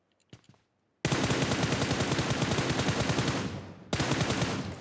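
Automatic gunfire in PUBG Mobile: after a couple of faint early pops, a long loud close-range burst of rapid shots runs for nearly three seconds, breaks off briefly, then resumes in a second burst, with no voices.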